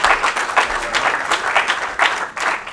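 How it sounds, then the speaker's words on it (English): A room full of people breaks into a round of applause for a speaker being welcomed on stage at a London business event, dense steady clapping filling the whole stretch. "Can we get a round of applause for Chris?"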